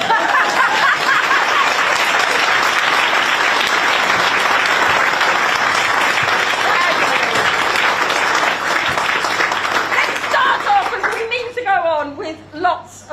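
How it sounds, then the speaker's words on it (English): Loud, dense applause from an audience at a Green Party leadership election event, sustained steady clapping for about ten seconds before thinning out, with a voice and scattered claps as it fades. "give it a round of applause"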